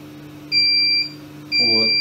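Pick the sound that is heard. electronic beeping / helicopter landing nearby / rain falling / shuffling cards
electronic beeping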